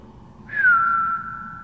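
A single sustained human whistle rises sharply and then holds a steady pitch for about a second, clear and fairly loud outdoors on an overcast day, with no talking.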